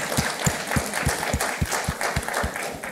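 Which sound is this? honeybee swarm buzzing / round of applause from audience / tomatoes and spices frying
round of applause from audience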